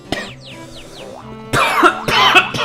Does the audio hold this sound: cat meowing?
no